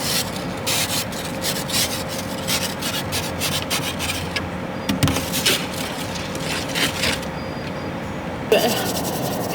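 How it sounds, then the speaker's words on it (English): Ice is scraped off a car window in the cold with a rapid series of rasping strokes, close and steady, with a voice speaking partway through. "I need to scrape my window."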